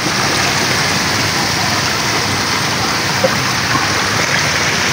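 Steady, dense rain pouring down during a flood, a constant hiss of water hitting surfaces with no letup.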